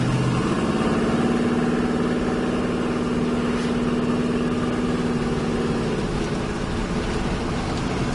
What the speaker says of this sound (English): They put these pipes coming up the side, the mufflers, low restriction mufflers.